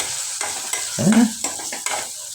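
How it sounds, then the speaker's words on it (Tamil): Spices and garam masala frying in oil for mutton gravy, a close and fairly loud steady sizzle broken by several quick stirring scrapes, with one brief squeaky utensil rub partway through and no talking. "பாருங்கள் நல்லா வணங்கிட்டு இருக்குது"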